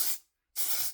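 Two short hissing bursts of setting-spray mist sprayed onto a face during makeup, the first tapering off, a brief silence, then a second close, sharp spritz.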